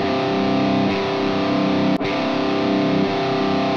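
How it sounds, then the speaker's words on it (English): A guitar played through a full distortion preset on a portable multi-effects rig rings out loud and saturated, with sustained thick chords and a brief cut near the middle before the tone returns, no talking. "And now a full distortion."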